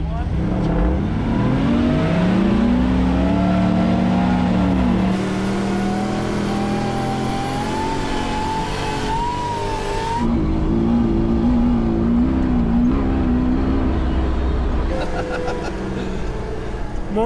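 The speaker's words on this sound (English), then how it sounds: "That was a two-wheel drive sand drag." Two-wheel-drive vehicle in a sand drag race, its engine revving and climbing loudly, fading, then surging again, with a voice speaking over part of it.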